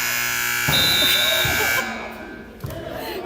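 A harsh electronic basketball game buzzer blares for a couple of seconds over crowd noise in a gym as a last-second three-point shot goes up, then fades into the chatter.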